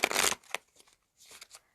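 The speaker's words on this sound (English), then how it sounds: "I'm going to shuffle it one more time." A deck of cards is shuffled up close in a quiet room: one loud riffling burst, then a few soft taps and a brief second flutter.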